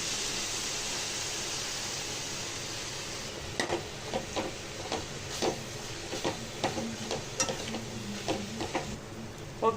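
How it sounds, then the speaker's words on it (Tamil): Spinach sautés in a pan for a greens stir-fry and curry, giving a steady soft sizzle, then a series of scraping stirs at irregular intervals, close and moderately quiet. "இப்போ கீரை கொஞ்சம் நேரம் வதங்கட்டும்."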